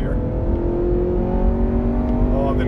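A naturally aspirated engine in a Mk5 Golf GTI or FN2 Civic Type R revving hard in third gear, heard from inside the car as a loud, steady drone whose pitch climbs gradually.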